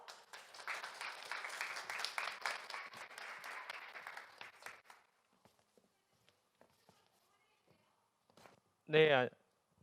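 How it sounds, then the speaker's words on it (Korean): Audience applause welcoming a guest speaker at a social enterprise venture forum lecture: steady clapping from a room of people for about five seconds, then tapering to scattered claps and quiet, followed by a brief loud thump near the end. "큰 박수로 환영해 주세요"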